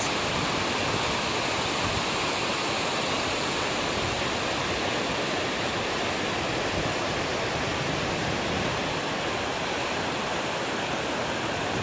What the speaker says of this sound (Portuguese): Essa é a Selfoss, uma cachoeira que fica na mesma trilha que a Dettifoss.